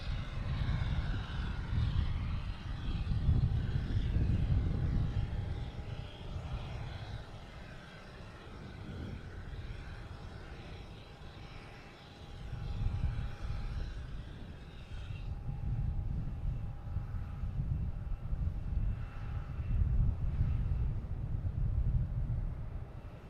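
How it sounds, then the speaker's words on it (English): A Cape Air Tecnam propeller plane passing at an airport, a faint, steady engine drone that swells and fades in waves over the run. "We've got a Cape Air heading Hyannis, a Tecnam 2012, flight 12."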